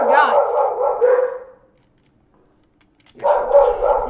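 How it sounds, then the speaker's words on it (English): A dog barks in a couple of loud, close bursts, then falls quiet for over a second before another round of barking. "This dog."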